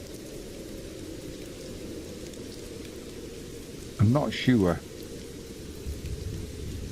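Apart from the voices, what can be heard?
rain falling at Prenton Park stadium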